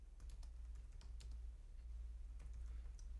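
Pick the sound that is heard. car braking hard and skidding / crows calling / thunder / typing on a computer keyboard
typing on a computer keyboard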